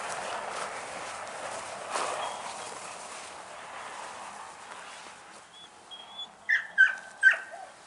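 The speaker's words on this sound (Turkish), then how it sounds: "Burada akbaş çoban köpeklerimiz mevcut." Akbaş shepherd dogs on a Kangal farm give a few sharp barks and whimpers near the end, rising over steady outdoor background noise.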